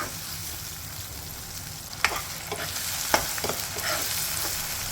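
Tomatoes sauté in a hot pan for peanut pithla, giving a steady, close sizzle and frying hiss broken by a few sharp clicks and scrapes of stirring.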